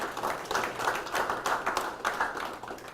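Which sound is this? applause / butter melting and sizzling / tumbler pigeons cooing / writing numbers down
applause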